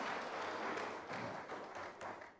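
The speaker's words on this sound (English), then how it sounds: "Please give him another resounding round of applause" Audience applause at a group colloquium, a dense wash of many hands clapping at moderate distance, steady then tapering slightly.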